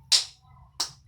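Two sharp hand claps about two-thirds of a second apart, close and crisp against a quiet low background, keeping time with a children's song at home.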